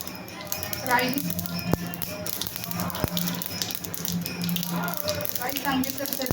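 Mustard seeds in a pan of hot oil pop in sparse, sharp snaps scattered across the moment, with voices talking nearby underneath.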